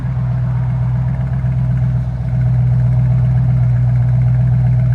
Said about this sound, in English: Here's the idle sound.